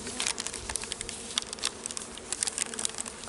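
Honeybees buzzing steadily around an open hive during an inspection, a dense continuous drone with light patter and rustling throughout.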